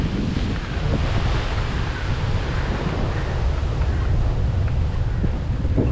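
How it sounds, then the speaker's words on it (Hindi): Dangerous sea waves crash against shoreline rocks along the Kerala coast, a loud, continuous roar of surf and spray with heavy wind buffeting the microphone throughout. "और काफ़ी ख़तरनाक लहरें आ रही है"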